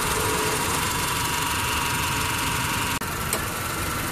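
A car engine idles steadily with a faint knocking vibration running through it, heard from inside the cabin at a constant level, with one brief click near the end.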